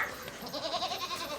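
A goat in a household setting gives a short, wavering bleat, fairly quiet and close, lasting just over a second with no speech over it.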